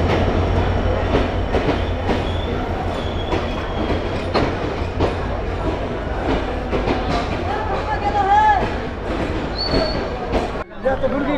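Padma Express train from Rajshahi departing Ullapara railway station in Bangladesh: loud continuous rumble and clickety-clack of wheels with brief metallic squeals, while voices talk nearby.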